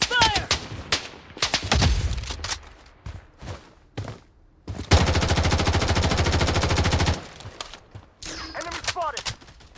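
Rapid automatic gunfire bursts crack through a Blood Strike match, with a long sustained volley in the middle, scattered single shots and thuds around it, and game voice callouts heard between the shooting.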